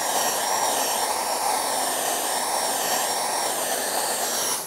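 A hair dryer blows steadily on a watercolour beach painting, a loud, continuous whooshing roar with a slight wavering pitch that holds close and unbroken for the whole stretch.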